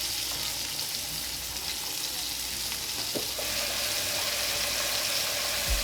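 Pieces of liver frying in a pan, a steady loud sizzle and crackle that runs throughout, with a few brief clinks and stirring sounds, and no talking.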